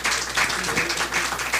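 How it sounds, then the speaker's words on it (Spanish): Steady, dense applause fills the room for the panelists at the close of a talk on new funding models for social organizations, a continuous wash of many hands clapping without pause. "quiero que les brinde un aplauso"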